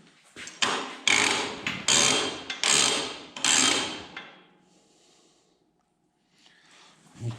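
A hammer taps a key back into place on an M-14 Belsaw sawmill carriage during a rebuild: about five sharp metallic strikes in quick succession, fairly close, then quiet with faint shop noise.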